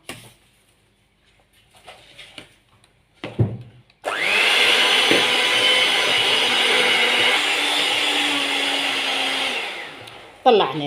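An electric mixer whips chantilly cream for tartlets. After a few seconds of quiet handling and brief voice, the beaters start with a loud whirring buzz that holds steady for about six seconds and then stops abruptly.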